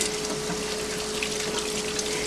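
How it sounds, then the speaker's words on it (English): Water runs steadily from a tap over salted tomatoes being rinsed, a constant close gushing with a faint steady hum underneath and no talking. "rinse them, guys, because there is salt on them."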